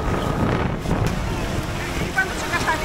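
Strong wind blowing outdoors in a Croatian forest near clear cold water, loud buffeting rumble across the microphone with gusts rising and falling throughout.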